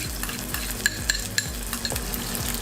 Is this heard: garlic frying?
yes